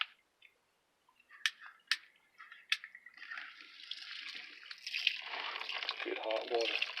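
A few sharp knocks, then water gushes from a tap into a sink, steady and close, with a brief voice near the end.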